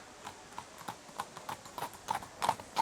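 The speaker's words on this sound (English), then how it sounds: "Cut to a horse is crossing the street from Nietzsche's angle, unhurriedly but inexorably it seems to move towards Nietzsche." Horse hooves clip-clop across a street in an unhurried, steady rhythm, each step a distinct knock, growing slightly louder and closer toward the end.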